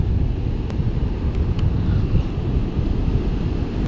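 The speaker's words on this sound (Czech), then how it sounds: "Fouká vítr a je zima." Wind blows hard at a cold beach by a rough sea, making a loud, constant rumble and buffeting against the microphone with surf beneath it.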